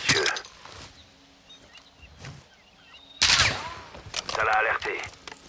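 Gunfire from the Call of Duty Modern Warfare II 2022 video game, with a sharp report near the start and a louder burst after three seconds. Game sounds and faint voices fill the gaps between the shots.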